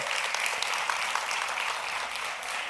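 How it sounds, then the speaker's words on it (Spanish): Loud, sustained applause from a church congregation during a Spanish-language sermon on the Holy Spirit, a dense steady wash of clapping filling the room with no voices on top. "dale un fuerte aplauso, pero hácelo bien dado"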